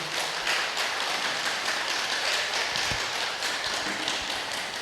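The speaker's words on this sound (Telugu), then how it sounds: "గట్టిగా క్లాప్స్ కొడదాం నీలిమ మేడంకు" Audience at a Guru Purnima festival gathering in Bodhan clapping for Neelima madam, a dense, steady wash of many hands that stays loud and close throughout with no talking.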